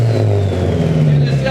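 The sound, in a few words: turbocharged SR-Z car engine revving under boost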